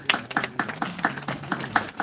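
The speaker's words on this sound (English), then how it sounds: "Big round of applause." Audience applause at a sustainability entrepreneurship event held with a university center in Jaipur, heard as a thin, fairly quiet run of separate claps in a steady rhythm, sounding like a small number of people clapping.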